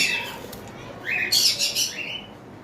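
Cockatiels call from a bird farm with a handful of short, bright chirps and whistled squawks clustered in the middle, moderately close over a low background hum.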